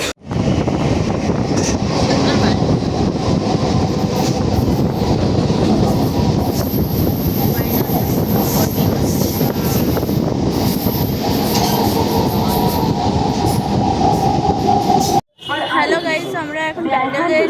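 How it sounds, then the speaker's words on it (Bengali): Busy train carriage waiting to depart on a line from Howrah toward Bandel, with a constant low rumble and loud crowd chatter all around, several voices talking at once. "আমরা উঠে পড়েছি এখন ট্রেনেতে ট্রেন ছাড়িনি ছাড়বে একটু পরে"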